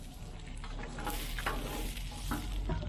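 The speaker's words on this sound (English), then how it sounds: "Kind of hear the sizzle." Tater tots coated in olive oil sizzle on a Blackstone griddle outdoors in cool weather, a steady close frying hiss with scattered pops and a few scraping stirs.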